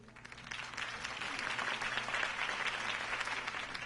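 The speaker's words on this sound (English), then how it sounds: "If only Mr. Wayne, my campaign's largest backer, could have heard that applause" A crowd in the video game Batman: The Telltale Series applauds after a campaign speech for Harvey Dent, the clapping swelling and holding steady over a low background hum.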